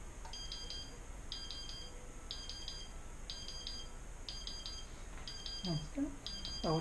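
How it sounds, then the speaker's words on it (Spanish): Repeated beeping of a heat press timer alarm during double-sided T-shirt sublimation, sounding in evenly spaced bursts over a steady background hum, with a few faint voice sounds near the end. "de que ya sonó la alarma de la estampada"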